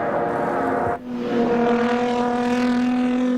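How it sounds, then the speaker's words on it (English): A racing car at the 1984 Bathurst 1000 roars loudly. The engine note drops sharply as it brakes and shifts down, then climbs again in a sustained, close engine howl. "And into brakes now, down through the gears."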